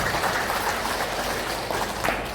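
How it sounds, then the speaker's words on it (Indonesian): An audience at a government sports hall inauguration in Papua applauds a guest, giving a dense, steady burst of clapping with no talk over it. "Ya, tepuk tangan untuk Ibu"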